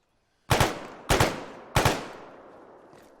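Three sharp bursts of pistol gunfire at a training demonstration, each a rapid cluster of loud, close shots followed by a ringing, reverberant tail that fades out before the next burst.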